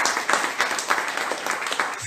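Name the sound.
congregation applause in church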